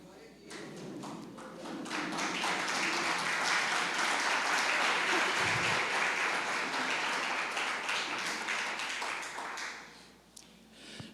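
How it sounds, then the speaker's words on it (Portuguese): A church congregation applauds together, a dense sustained wash of clapping that builds quickly and holds steady for several seconds before tapering off at the end, filling the space without speech over it. "aplaudindo ao Senhor."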